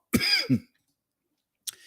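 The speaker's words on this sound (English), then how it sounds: "sorry about all this coughing. It's definitely allergies" A person coughs from allergies: a short burst of two quick coughs, then a pause and a faint third cough, close and dry with no talking.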